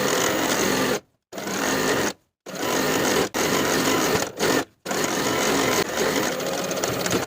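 A sewing machine edge stitches along the inner fold of a linen dress hem, running in loud, steady bursts broken by a few brief stops.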